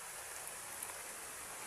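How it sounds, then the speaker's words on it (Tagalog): Rain falls steadily and evenly, a dense close hiss of drops with no other sounds and no talk. "ganari po nga ni ay nagaulan"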